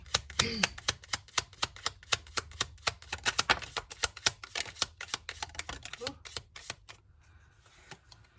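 A deck of tarot cards being shuffled by hand, a long rapid run of crisp riffling snaps and flutters, close, which thins out and goes quiet near the end.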